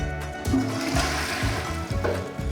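Water runs from a tap in a bathroom, a steady splashing stream close by, broken by a few low knocks and thuds, with no voices.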